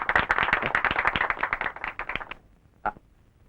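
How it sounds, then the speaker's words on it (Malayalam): A small audience claps for a magic trick in which a white baby rabbit appears. The claps are close and distinct, with quick, uneven slaps that die away after two seconds, then one last stray clap. "ആ എല്ലാരും കൈയടിച്ചേ."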